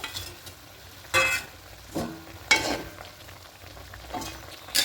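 Fish pieces for a fish curry drop into water already boiling in a pot, giving a few scattered bursts of splashing and sizzle with stirring clatter between them, no voices.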